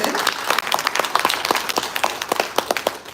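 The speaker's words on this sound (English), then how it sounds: "let's give a round of applause" An audience at a panel discussion breaks into brisk, continuous clapping, many hands close and fairly loud for a few seconds.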